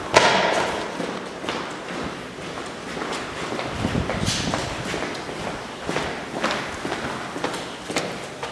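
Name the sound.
footsteps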